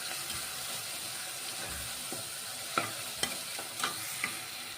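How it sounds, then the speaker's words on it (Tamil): Ingredients for a cauliflower chilli curry are sautéed with salt in a pan, giving a soft continuous sizzle broken by several sharp scraping clicks as a spatula stirs, close and moderately quiet. "இப்போ நம்ம உப்பு போட்டு வதக்குறோம்."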